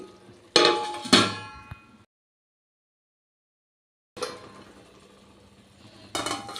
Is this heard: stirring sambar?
yes